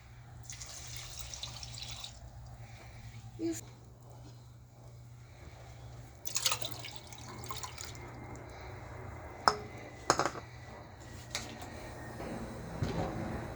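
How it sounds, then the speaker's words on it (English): Chicken stock poured into a pot of rinsed quinoa on a stovetop, irregular splashing and trickling liquid sounds with a few louder spills and clatters against a low steady hum, fairly close and with no talk. "And I'm going to add 2 cups of this chicken stock."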